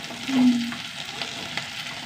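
Okra sautés in a pan with a soft, steady sizzle, interrupted by a few light scrapes and stirring clicks close by.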